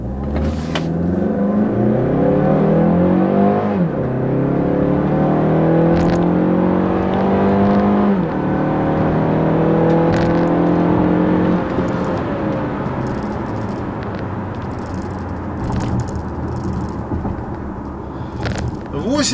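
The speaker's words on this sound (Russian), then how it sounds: "Давайте померим разгон 0-100" Mazda CX-5 2017 with a 2.5-litre engine accelerating hard from a standstill to 100 km/h, its engine note climbing steadily through the gears with brief drops at shifts, heard from inside the cabin as a loud continuous rise.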